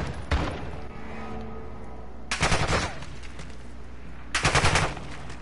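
Enemy gunfire in a PS4 shooter game comes as three loud bursts of automatic fire, a short one at the start and two longer rattling volleys later, separated by a low ambient hum.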